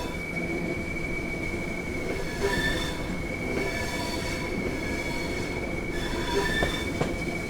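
Train wheels squeal steadily and loudly in Train Sim World 5, a continuous high metallic screech over rolling rail rumble with no talking.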